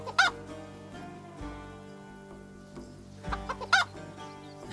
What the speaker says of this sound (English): It's a chicken man.